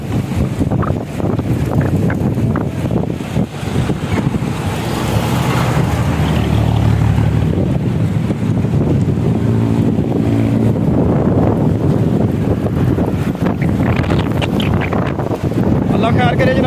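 A very strong windstorm roars in Punjab, a loud continuous rush buffeting the microphone, with traffic rumble and a voice speaking over it.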